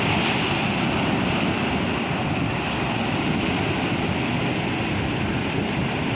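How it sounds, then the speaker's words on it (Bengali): Sea waves break against seaside rocks in a constant, loud, rushing roar with no pauses, close to the listener and without any talking. "পাথরে একটা আছাড় খাওয়া পানিটা খুব ভালো লাগে এই জায়গাটায়"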